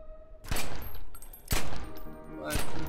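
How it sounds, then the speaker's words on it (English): Pistol shots from The Secret World, three sharp loud reports about a second apart, each trailing off into a ringing, reverberant tail. "you do look a bit badass when you're shooting your pistols"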